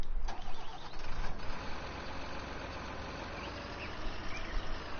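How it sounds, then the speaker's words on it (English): The Frankenstein machine in Farming Simulator 19 runs its engine, a steady mid-pitched drone with a rougher surge at the start that settles into an even, continuous idle-like hum. "my only complaint with Frankenstein is that it uses the same engine sound"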